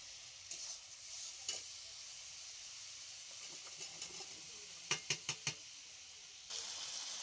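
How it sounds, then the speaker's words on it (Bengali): Malabar spinach and cut potato stirred into spice paste frying in oil, a steady soft sizzle with scattered stirring scrapes and a quick run of four sharp utensil knocks near the end. "এবার আমি দিয়ে দিচ্ছি আগে থেকে কেটে ধুয়ে রাখা পুঁইশাক আলু"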